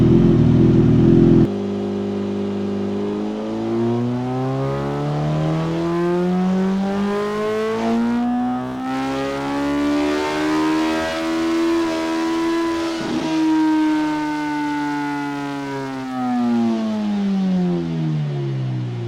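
A Suzuki GSX-S1000 GX motorcycle with an aftermarket exhaust sits on a dyno, its engine climbing in one long, loud, close rev that peaks and tails off, followed by a second shorter rise.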